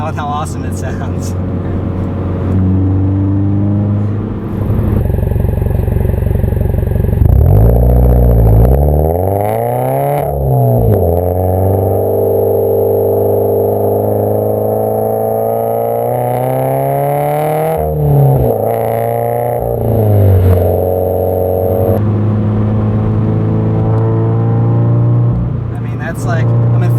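A Subaru BRZ fitted with an SRT header-back exhaust revs loudly and close by, its exhaust note rising and falling in repeated sweeps over a sustained engine drone.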